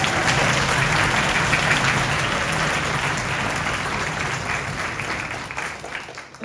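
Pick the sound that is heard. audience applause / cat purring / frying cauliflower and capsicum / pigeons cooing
audience applause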